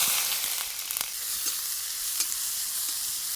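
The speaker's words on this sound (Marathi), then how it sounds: "चांगला लालसर परतून घ्यायचा आहे कांदा" Onion frying in hot oil with mustard seeds in a kadhai makes a dense, close sizzle, with a few sharp crackles near the start.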